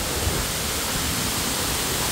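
A small stream flows steadily along a waterfall trail in Tejutepeque, El Salvador, giving a close, even, broadband rush of water that holds constant throughout with no other sounds.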